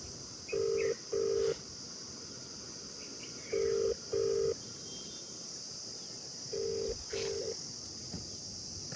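A phone call rings out on a mobile outdoors near a temple: three evenly spaced pairs of electronic ringing beeps, fairly clear and close, over a steady background of chirping crickets, with no talking.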